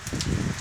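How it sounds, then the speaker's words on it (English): Steady rain falls outdoors in a soft, continuous hiss and patter, heard alone for a brief moment. "It's still raining. Very rainy."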